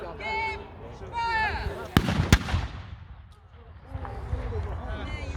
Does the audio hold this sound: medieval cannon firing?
yes